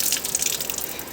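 Cold water pours steadily from an outdoor tap as a girl bathes under it in summer heat, a continuous close hiss and splash without pause.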